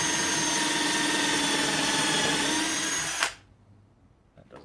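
Power drill whining steadily at close range as it drives a screw into old pallet wood for a beer crate, running for about three seconds before cutting off abruptly, leaving near silence with a couple of faint clicks.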